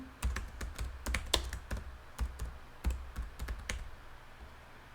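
Keys on a computer keyboard click in quick irregular bursts as text goes into a search box, close and crisp with brief pauses between runs of keystrokes.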